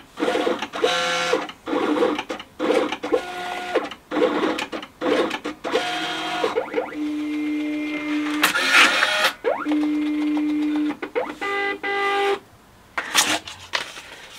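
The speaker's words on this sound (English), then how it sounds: "this little thing will do the printing and it will cut all the holes out" A small printer-cutter machine works alone, printing and cutting holes: loud rapid mechanical bursts, whirring carriage passes and buzzing steady tones alternate in stop-start rhythm, with clicks and pauses between runs.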